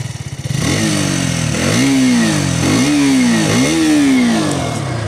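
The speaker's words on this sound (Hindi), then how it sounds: "चलिए इसकी जो एग्जॉस्ट उसके साउंड में एक बार आप लोगों को सुना दूँ।" A KTM RC 200 motorcycle with an underbelly exhaust revs repeatedly, each blip rising and falling in a throaty, loud, close-up engine note with no talking.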